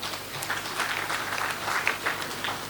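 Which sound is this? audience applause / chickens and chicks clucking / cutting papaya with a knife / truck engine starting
audience applause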